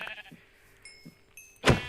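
Sheep bleating in Minecraft, a faint bleat or two early on, then a sharper, louder bleat near the end, with quiet game ambience between.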